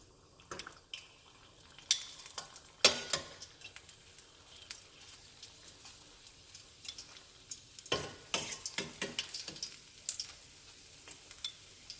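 Chicken chimichangas fry in hot grease with a soft, continuous sizzle broken by scattered sharper pops and crackles, heard close with no talking.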